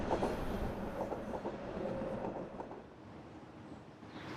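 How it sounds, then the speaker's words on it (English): A subway train rumbles past behind a sound barrier wall beside an expressway, a muffled, steady low roar with faint rhythmic clatter that slowly fades over a few seconds. "Over that wall is a subway and the expressway."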